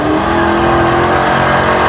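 A mud racing truck engine roars loudly and continuously, close by, with a sustained high-revving drone and no letup.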